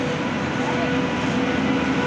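Passenger train travelling toward Vijayawada, heard from inside the carriage as a steady, even low rumble and hiss of wheels and car body that holds constant throughout.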